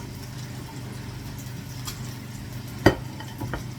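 An egg fries and caramelizes in a pan with a quiet, steady sizzle. A single sharp scrape of a utensil cuts in near the end.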